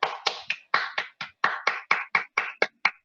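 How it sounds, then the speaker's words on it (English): Hands clap sharply and close by in an uneven series of about a dozen crisp claps, each isolated with quiet gaps between. "I'm just saying, I'm clapping for you."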